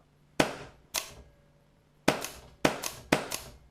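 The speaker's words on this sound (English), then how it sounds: "So I'll just fire a few more" A rebuilt WGP Trilogy Autococker paintball marker fires five sharp, loud pops, close by, with a short pause after the first two and the last three coming in quick succession.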